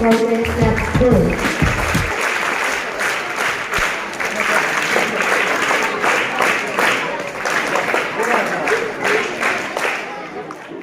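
Students in a hall give loud, sustained applause at a retirement felicitation ceremony. Dense clapping fills the whole span and slowly thins toward the end, with voices talking over it early on.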